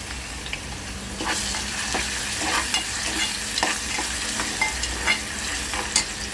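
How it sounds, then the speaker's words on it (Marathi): Onion with crushed garlic fries in a pan, a steady crackling sizzle with scattered sharper pops and stirring scrapes throughout, close and fairly loud with no voices. "कांदा भाजू झालेला आहे यामध्ये आपण आपला लसूण जो चेचून ठेवलेला आहे तो लसूण टाकायचा"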